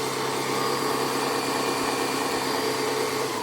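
A Braun MultiQuick 5 Vario hand blender motor runs at constant high speed, a steady close whine with a dense buzzing hum throughout, alone.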